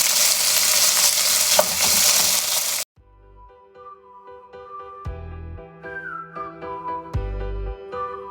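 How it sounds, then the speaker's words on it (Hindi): Beef sizzles loudly in hot oil in a pan for a Chinese beef in black bean sauce, a dense steady frying hiss for about three seconds before it cuts off and music takes over. "इसको इसमें ट्रांसफर कर लें, अच्छे से भून लें।"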